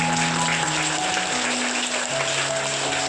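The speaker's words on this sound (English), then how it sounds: "Let's give them a loud applause." Children and teachers at a school assembly clap in a continuous, fairly loud burst of applause, with a steady hum running beneath the dense clapping.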